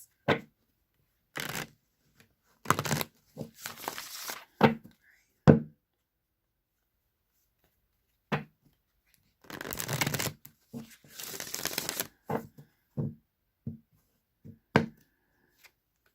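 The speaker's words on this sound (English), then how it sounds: "I'm just going to shuffle the deck 3 times, cut the deck, draw a card, and then repeat the process for 3 cards." A deck of tarot cards being shuffled by hand, with crisp riffles and slaps in two clusters separated by quiet pauses, along with scattered taps as the deck is cut and handled, close and clear.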